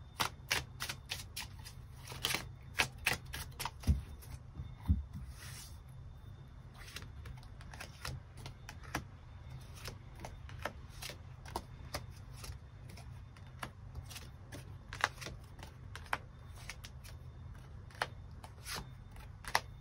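Tarot cards shuffled and drawn, with a dense run of quick, crisp card flicks and riffles, then scattered single snaps as cards are laid out. The sounds are close and moderately quiet.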